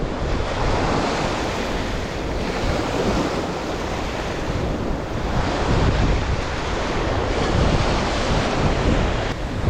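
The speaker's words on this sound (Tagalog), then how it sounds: "Lumakas yung alon." Strong sea waves surge and wash continuously against a rocky shore, loud and close, with heavy wind buffeting the microphone throughout and no voices.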